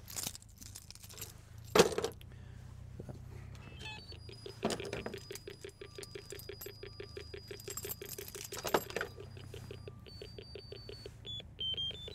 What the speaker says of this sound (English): Got my key ring with the 3 essential things on there.